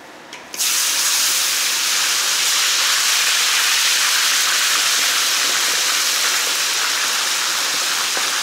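Loud, continuous hiss of homemade rooster meat frying in hot oil in a kazan, starting abruptly and holding steady throughout.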